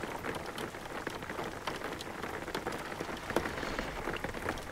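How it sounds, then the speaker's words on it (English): Rain falls steadily in the video game Jalopy, a dense even patter of drops on surfaces at moderate loudness, with no speech. "It's raining."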